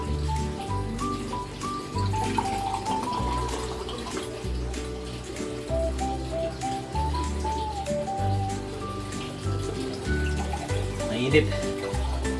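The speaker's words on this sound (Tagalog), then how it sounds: "Hindi pa puno ang ating tubig." Water runs steadily from a tap into a container, a continuous splashing rush with a low hum underneath throughout.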